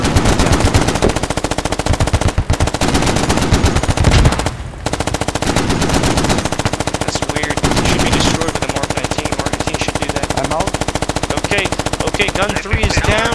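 Sustained, loud automatic fire from a .50 cal machine gun and Mk19 grenade launcher in a military video game, rapid continuous bursts with one brief pause, and faint voices in the background.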